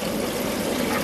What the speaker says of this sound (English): we get the jets running to do so